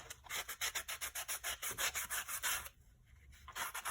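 Sandpaper rubbed back and forth over the perforated bumps on a cardboard Kleenex box, a fast, steady rasping stroke rhythm close up that pauses briefly before resuming.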